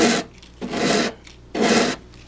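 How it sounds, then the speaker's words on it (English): Rhythmic back-and-forth rasping of tightly rolled sandpaper against wood veneer in the rounded corners of an old TRIAD radio cabinet, three strong close strokes separated by short pauses. "To get into these rounded corners, I've rolled my sandpaper up into a really tight cylinder"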